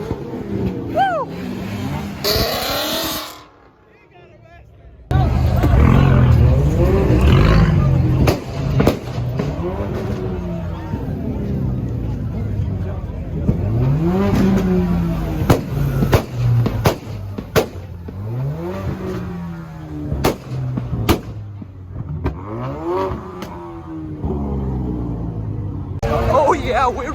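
At a rowdy car meet, a Toyota pickup truck's engine rumbles and revs loudly in repeated climbing pulls, with crowd noise around it.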